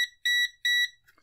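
A VENLAB VM-200M digital multimeter sounds its auto power-off warning: three short, clear, high-pitched electronic beeps in an even rhythm, alone in a quiet room.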